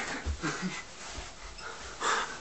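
A dog panting close by, several short, breathy wheezing puffs with a snort-like burst near the end, fairly quiet, no talking.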